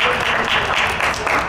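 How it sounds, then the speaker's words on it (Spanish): Applause for a young artist at an international group exhibition of Catrinas, a brief dense burst of clapping filling the moment at steady volume. "Un aplauso para ella."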